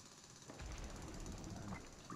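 A rapid, rattling drill hammers away in the Rock Raiders video game, faint and steady for about a second and a half against a low background hum, with no talking.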